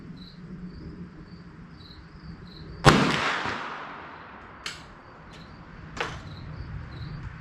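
A shotgun fires .410 slugs outdoors at a 50-yard target, one loud sharp blast with a long decaying echo followed by two fainter reports, all over a continuous chirping of crickets.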